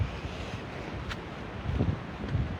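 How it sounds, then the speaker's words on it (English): Wind gusting down an ancient track through woodland, a steady buffeting rumble against the microphone that swells in a few stronger gusts, no talk. "down this ancient track, which I think is funneling the wind now"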